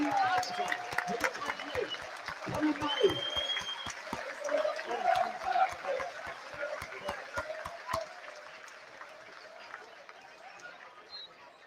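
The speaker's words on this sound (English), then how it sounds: "Massive round of applause." Stadium crowd at a Gateshead versus Southport football match applauding a player, a broad roar of distant clapping and cheering with sharp claps scattered through it, thinning out toward the end while a commentator talks over it.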